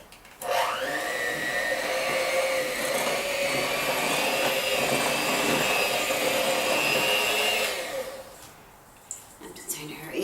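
An electric mixer whirs loudly and steadily through pumpkin cookie dough for about seven seconds, its pitch rising as it starts, then winds down, followed by a few light knocks.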